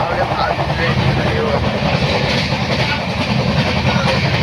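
A passenger train rolls along, heard from inside a crowded carriage, with a loud continuous rumble and faint wheel clatter under chatter from nearby passengers.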